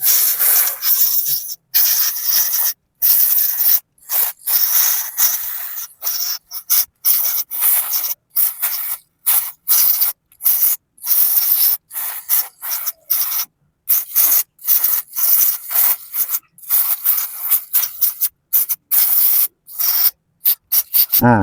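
Spark plugs from a Suzuki Carry Extra being cleaned, a near, loud brisk rubbing and scrubbing in short repeated strokes separated by brief pauses, with no talk.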